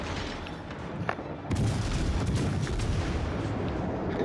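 Naval gunfire in World of Warships: Legends, with a few sharp cracks over a rumbling background before a heavy boom hits and leaves a dense, sustained roar of shellfire and explosions.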